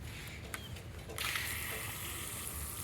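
Lefree 3rd Gen expandable garden hose nozzle on its shower setting, a few faint clicks followed by a soft, steady splashing hiss of water spray that begins partway through and continues.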